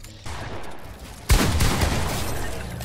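Shotgun blasts in a video game arrive as a sudden loud boom that rolls into a dense burst of gunfire, following a quieter stretch with a faint earlier shot.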